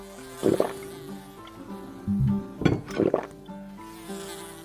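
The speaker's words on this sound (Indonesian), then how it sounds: "ada lalat lewat, cuman sudah ada obat anti lalat" Fly buzzing past in the Indonesian meatball-stall game Bakso Simulator Indonesia, with a few loud whirring sweeps near the mic over steady background music.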